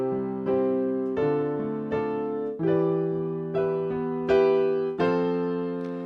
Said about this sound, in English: That is a chord progression of 1, 2, 3, 4, with 2 minor, 3 minor, and 1 and 4 is major